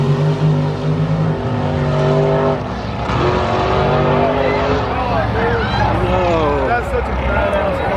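A daily-driver car revs its engine hard on a drag strip pass, with rising and falling engine tones and gear changes. The pass is loud and close, and people talk in the background.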